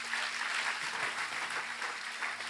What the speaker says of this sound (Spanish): Fuerte ese aplauso a estos guerreros.